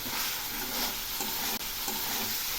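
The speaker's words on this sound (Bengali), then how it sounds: "এবার এই মশলাগুলো ভালো করে কষিয়ে নেব।" Cumin paste, ginger paste and chilli powder sauté in hot oil for a silver carp fish curry, making a loud steady hiss and crackle with faint stirring scrapes and one sharp tick, no voices.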